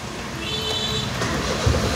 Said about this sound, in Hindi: ये गाड़ी मैंने स्टार्ट कर दिया,